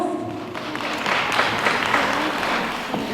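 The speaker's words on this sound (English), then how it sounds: "Give them a round of applause" Brief, moderately loud applause from an audience at an African cultural expo, following the introduction of a soul singer and an Afro jazz musician, a dense patter of clapping that stays fairly even throughout.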